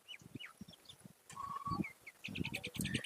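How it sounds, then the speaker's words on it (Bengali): Andhra pigeons kept at a home loft, a few soft, close coos and low murmurs with faint chirps mixed in, growing a little busier toward the end. "খুব সুন্দর কোয়ালিটির পায়রা"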